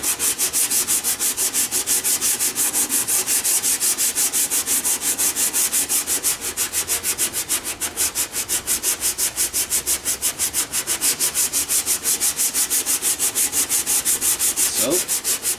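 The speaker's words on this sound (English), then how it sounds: "So, and we keep it sanding." Hand sanding works across the painted body line of a car in a fast, steady back-and-forth scrubbing rhythm, close and loud, continuing without pause and with no talking.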